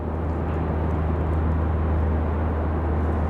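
Piper light airplane taking off at an airport, a steady broadband engine roar that stays constant and fairly loud across the moment.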